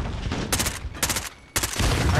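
Bursts of gunfire in Call of Duty: Modern Warfare, three loud rapid volleys over about two seconds separated by brief gaps, close and sharp over game background noise.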